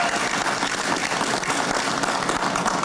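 Audience giving a round of applause at a barbecue hall of fame awards ceremony, dense, even clapping from a large crowd filling the room, loud and continuous without speech.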